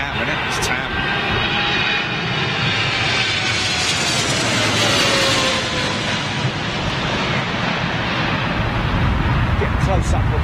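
A jet airliner landing at a windy Heathrow passes close by with a loud, sustained engine roar and a whining tone that drifts downward, while people talk excitedly nearby.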